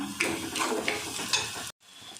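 Sliced onions sauté in hot oil in a pan for a restaurant-style egg gravy, giving a steady, dense sizzle with occasional stirring scrapes before a brief cut to near silence and a quieter tail.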